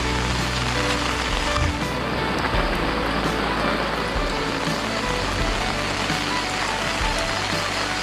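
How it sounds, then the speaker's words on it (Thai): Steady heavy rain pours down continuously, a dense even hiss with low rumbling beneath, loud and close, no talking. "ฝนยังตกมาเรื่อยๆ"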